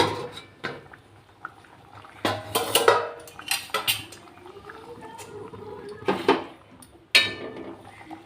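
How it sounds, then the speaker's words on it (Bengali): A metal lid comes off a pot of simmering biulir dal (urad dal) on a gas stove, with a few sharp clatters and clinks of metal against metal between quieter stretches and faint bubbling. "এবার আমি ঢাকাটা খুলে দেব।"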